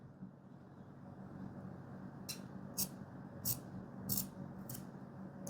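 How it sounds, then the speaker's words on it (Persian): Scissors cutting fabric while sewing a tunic, five evenly spaced crisp snips near the end over a low room hum, close and moderately quiet, with no talking. "اینو قیچی میکنم"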